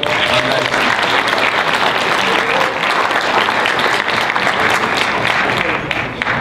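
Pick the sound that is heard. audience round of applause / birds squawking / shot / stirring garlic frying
audience round of applause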